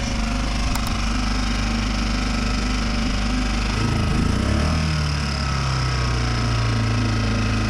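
A boat engine with a lag at low revs putters steadily, a continuous low rumble that dips and shifts in pitch midway, with no talking.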